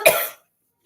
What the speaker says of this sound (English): Sorry, I'm coughing, you guys.